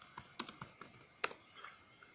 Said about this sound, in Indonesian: Itu ngetik.